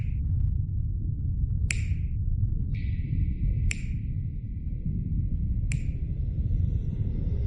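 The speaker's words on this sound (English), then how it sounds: "I will be making snapping sound like this" Three sharp, bright finger snaps from a companion character in a video game, spaced about two seconds apart, each followed by a brief ringing electronic tone over a low rumbling background.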